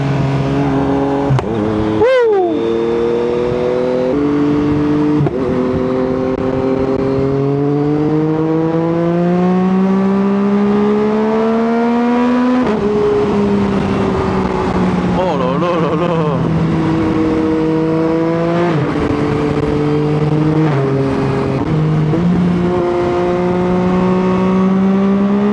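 A BMW S1000 XR Pack M sport touring motorcycle rides under load, its engine note rising and falling through gear changes with exhaust crackle and wind rush. The bike is heard continuously and loudly throughout, with no talking.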